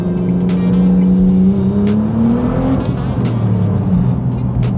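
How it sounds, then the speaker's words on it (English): A loud car engine revs and changes pitch as it drives, with a steady tire-and-road roar and brief exhaust crackles on the downshifts. "You can just downshift and get the crackle from the exhaust."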